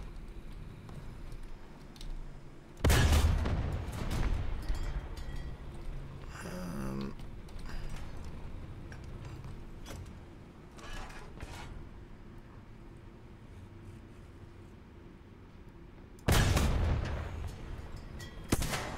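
Two heavy tank cannon blasts in the War Thunder video game, one early and one near the end, booming over a low mechanical rumble with faint clanks between.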